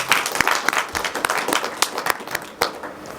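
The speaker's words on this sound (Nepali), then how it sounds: "एकचोटि हाम्रो मिडियाकर्मी दाजुभाइहरूको लागि ताली बजाइदिनुहोस् न" Audience applause at a poetry album launch ceremony in Kathmandu, given for the attending media people: dense, irregular clapping from a modest crowd, with several sharp individual claps standing out near the front.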